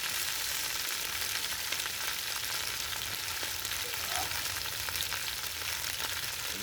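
Meat sizzling as it cooks in a smoking stew pot, a loud, steady crackling hiss with scattered pops and faint stirring, continuous throughout.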